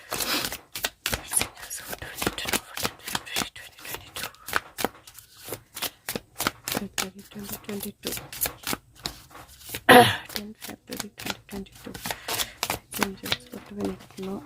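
A Spirit of the Animal oracle card deck is shuffled continuously, giving rapid riffling and slapping bursts of cards up close, with a voice speaking at moments over the shuffling.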